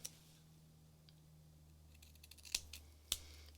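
Scissors cut strips of paper printed with words, a few crisp close snips with a sharp click, set against a quiet room with a low background hum.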